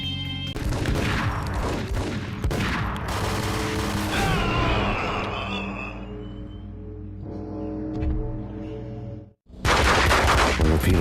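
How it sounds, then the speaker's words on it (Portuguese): Bursts of rapid gunfire and explosions from the video game Max Payne fill the mix over a droning game soundtrack, loud and continuous, then a brief dropout before the din resumes. "Max e Jack trocam tiro"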